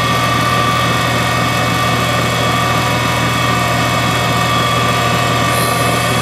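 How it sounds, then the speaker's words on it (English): A Deckel tool grinder with its grinding wheel running, a loud steady motor hum and whine that holds constant throughout with no break. "Okay, so then we would turn on the grinding wheel."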